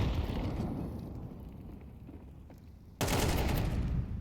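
AK rifle fire in a Counter-Strike match: a faint crackle of shots under crowd-like noise, then a sudden loud dense burst of gunfire breaks in near the end.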